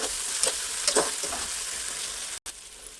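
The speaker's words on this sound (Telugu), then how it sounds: "ఇలా మంచిగా కలుపుకోవాలి." Chicken being stirred with onions and a little ginger paste in a pot for a dum chicken dish: a steady sizzle broken by several scraping stir strokes, close and fairly loud, with no talking.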